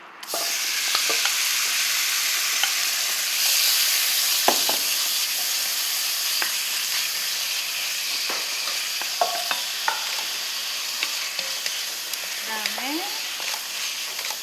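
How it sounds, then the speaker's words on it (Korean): Meat stir-frying in a pan with cucumber, a steady broad sizzle running throughout with scattered scraping and clinking of a utensil, close and fairly loud, no talk. "우선 고기를 먼저 볶을 텐데요"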